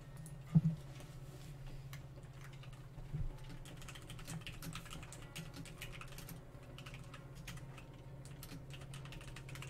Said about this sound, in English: I love typing on this keyboard though.